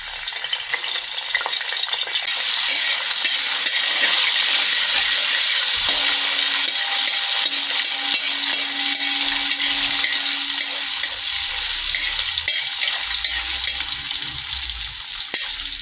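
Clam meat frying in a pan with coconut pieces and cinnamon, a loud steady sizzle with stirring scrapes running throughout.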